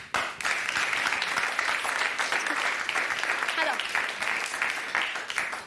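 A stand-up comedy audience applauding, a dense, steady wash of clapping that fills the whole stretch, with a brief spoken word at the start.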